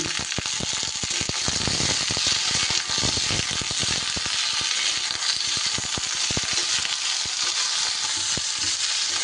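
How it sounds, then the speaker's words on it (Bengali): Flat beans fry in a pan under a loud, dense sizzle, with rapid crackles and repeated stirring scrapes running throughout, close to the pan and with no voices. "সিমটা একটু ভালো করে নাড়াচাড়া করে একটু ভাজা ভাজা করে নেব"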